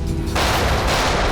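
A loud, dense burst of gunfire in a TV crime drama fills a brief moment, harsh and close, with no talking.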